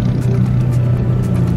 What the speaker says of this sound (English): Nice Viper pulling through.